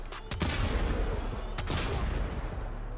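Tombfinger kitgun in the video game Warframe firing in a rapid, dense burst of loud gunfire, with two sharper blasts standing out over a continuous crackling roar.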